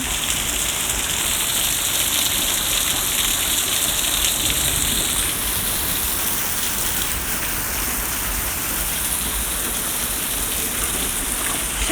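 Heavy rain falling outside makes a loud, dense, continuous hiss of drops pounding surfaces, steady from start to finish with no voices.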